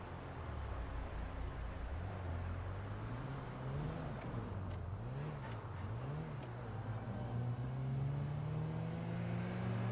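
Car engine in a video game roleplay server, steady and continuous with smooth rising and falling pitch as it accelerates and shifts, close and fairly loud, no talking.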